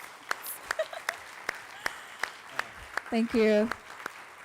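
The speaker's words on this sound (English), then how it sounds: "make sure that we give an applause to Emmy, she deserves it, but to all the panelists" Sparse, evenly spaced claps from a small group close by thank the panelists at a climate displacement forum; a brief spoken thank-you and a short voiced sound rise near the end.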